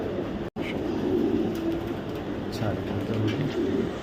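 Racing pigeons of a Super Mili bloodline coo softly amid continuous loud background rumble, with a voice talking over them.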